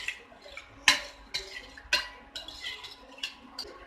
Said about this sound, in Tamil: இது நல்லா மிக்ஸ் பண்ணி விட்டுருங்க.